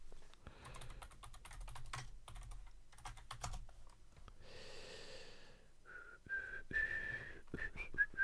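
Clattering keystrokes on a computer keyboard come in quick irregular runs, close and clear, followed by breathy sounds and a faint whistled tone.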